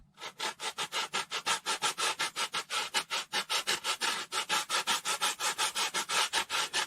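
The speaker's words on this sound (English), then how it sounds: "so I'm using P40 sandpaper. I'm just going to sand" Coarse P40 sandpaper rubbed back and forth across wood in steady, even strokes, about four per second, close and fairly loud with no talking.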